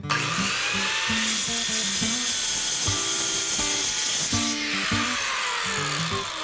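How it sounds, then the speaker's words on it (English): A circular saw with a clamp-on straight edge rips through wood, its loud high whine held steady and close, while short clunks and bumps sound beneath it. "So for this job, a circular saw would be a much better choice."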